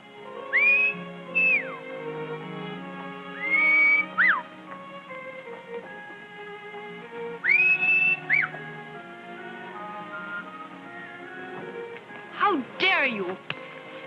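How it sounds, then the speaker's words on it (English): A few short, rising whistled phrases ring out in bursts over a soft orchestral music background, separated by pauses, in a 1939 Western film. "I could have sworn I recognized that whistle."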